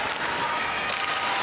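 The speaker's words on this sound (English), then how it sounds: "I think you're going to hear a cheer every time Spooner gets that puck on her stick." Crowd at the Coca-Cola Coliseum during a women's professional hockey semi-final game roars in a dense, steady wash of cheering and applause, loud and continuous.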